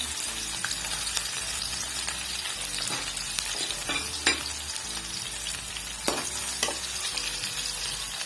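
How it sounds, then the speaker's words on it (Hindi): Chopped onion frying in hot ghee for aloo palak, a continuous quiet sizzle broken by a few spatula stirs and scrapes, no voices. "यहाँ मैं इसमें शामिल करूँगी अपना प्याज मैंने कटिंग करके रख दिया था"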